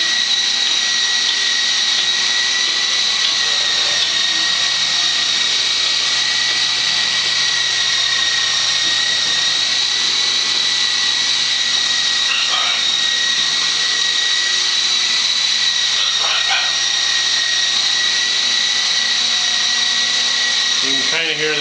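A small model helicopter hovers and moves around indoors in a kitchen, its rotor and motor giving a constant, loud, high-pitched whine throughout.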